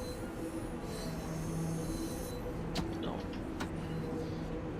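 A train pulling into a station in the game Train Sim World 6 on a London Victoria to Ramsgate and Dover service, with a steady rumbling run, high wheel squeals and brief clanks, close and continuous, with no talk.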